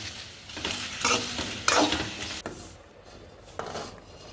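Okra sizzles and hisses in a hot pan for sambar, with repeated scraping strokes of a spoon stirring it.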